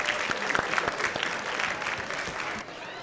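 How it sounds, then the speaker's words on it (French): An audience at a school cleanliness prize ceremony applauds the show's director and editor with brisk, dense clapping that holds steady, then thins and fades near the end. "Il faut l'applaudir"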